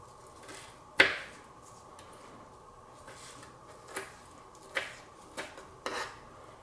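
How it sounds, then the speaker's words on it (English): A kitchen knife minces a small amount of parsley by hand on a cutting board, producing sparse, crisp taps: one sharp strike, then a few lighter chops spaced apart, close and alone. "I don't mind mincing it by hand."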